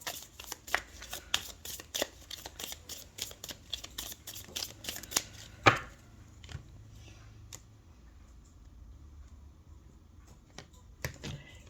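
Oracle cards being shuffled by hand, quick crisp riffles and snaps for about six seconds, one sharp slap as a card jumps out, then a few scattered soft clicks in near silence.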